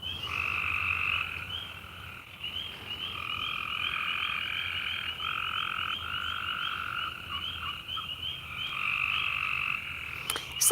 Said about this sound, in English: It's like a symphony of frog sounds out here.